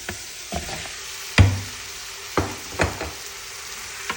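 Meat goes into a pan for Kabuli rice and sizzles softly under a few sharp knocks and scrapes of a utensil against the pan.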